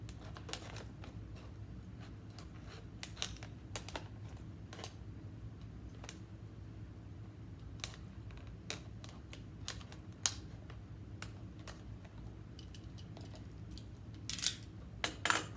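Scissors snip through a thin, fragile plastic water bottle, producing faint scattered clicks and crisp cuts at an irregular pace with brief clustered snips near the end, in a quiet room.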